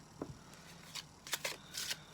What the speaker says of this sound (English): quick little shuffle.